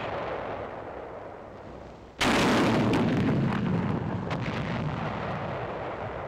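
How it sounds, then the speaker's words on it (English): A 57mm recoilless rifle fires a high-explosive AT-38 shell at caves 800 to 900 yards away in Pacific warfare: one sudden, loud blast cuts through steady background noise, then a long rumbling decay with scattered crackles. "The 57mm recoilless rifle, also in action for the first time in the Pacific Theater."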